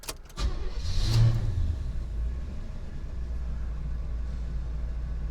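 A 1975 Oldsmobile Delta 88 Royale V8 cranks briefly and catches, then settles into a steady, smooth low idle rumble that continues close by to the end, with no talking.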